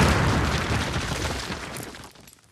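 An explosion in Call of Duty, a loud, close booming blast with a rumbling tail that fades out over a couple of seconds, no voices over it.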